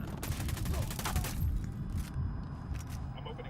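Gunfire in Tom Clancy's Ghost Recon crackles in a rapid burst of close shots, followed by a few scattered single reports, with a voice talking over the shooting.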